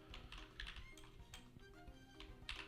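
Rapid typing on a computer keyboard during late-night game engine coding, a steady run of close, clattering keystrokes with brief pauses and no speech.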